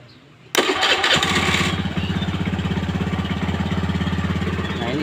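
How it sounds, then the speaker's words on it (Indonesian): A Honda Vario 110 fuel-injected scooter, whose battery keeps running flat, is started with a brief whirring crank, then catches and settles into a steady, pulsing idle close by with no talk over it. "Coba kita starter sekarang ya."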